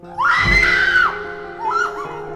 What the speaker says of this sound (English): That was before a scream rang out.